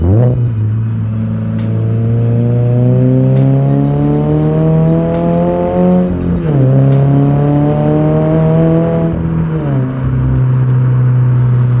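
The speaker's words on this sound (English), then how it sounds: "I'm super happy with how this exhaust sounds." A 2022 Subaru BRZ fitted with a new aftermarket exhaust revs up close and loud, its engine note climbing, dipping and rising again in sustained pulls with no talk over it.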